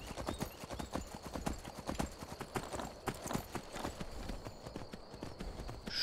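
Horse hooves clip-clop in a steady, busy rhythm while riding in the Skyrim video game, fairly loud and continuous throughout, with faint background ambience.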